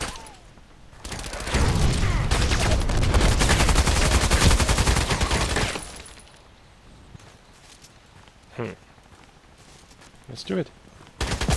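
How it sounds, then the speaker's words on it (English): Rapid automatic gunfire in a shooter video game pours out in a loud, dense burst for several seconds, then drops to quieter scattered shots and footsteps while someone speaks briefly. "How can he shoot that fast?"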